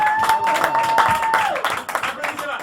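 Audience applause at a chansonnier tribute show, steady clapping and cheering across the whole stretch while a sung or held tone and voices carry over it.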